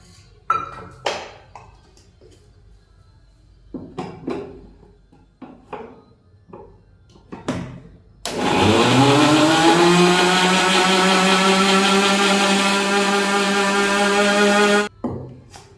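A few clicks and clatters, then a mixer grinder grinding spices roars to life and grinds loudly and steadily for several seconds before abruptly stopping.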